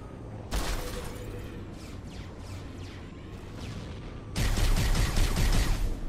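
Halo video game gunfire, with a loud burst of rapid automatic shots at the start. Quieter scattered shots and clatter follow, then another dense, loud volley near the end.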